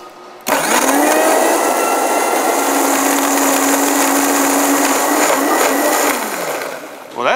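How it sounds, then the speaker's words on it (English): High-powered Vitamix blender blending tomatoes, starting abruptly with a loud roaring whir that holds steady for about six seconds with a sustained motor tone, then winds down as it shuts off. "So we're using the Vitamix. That is correct. High-powered Vitamix."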